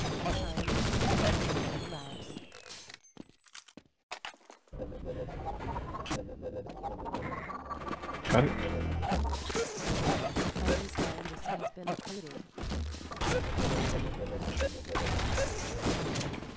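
Video game shotgun fire in a tense firefight, sharp loud blasts and scattered bursts mixed with other game effects, while players talk over the action.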